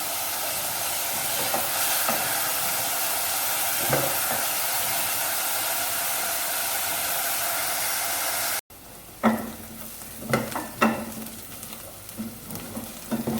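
Onions fry in a pan on the way to a Hyderabadi khatti dal tadka, a continuous hissing sizzle that cuts off abruptly, then resumes quieter with intermittent spatula scrapes and clicks.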